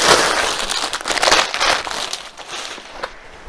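Loud, close crinkling and rustling of plastic packaging as a boxed storage container is unpacked, a continuous crackly texture with a few sharper snaps.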